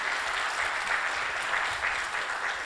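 Conference attendees at a Brazilian legal forum applaud a German constitutional court judge, a steady, moderately loud round of clapping with no break.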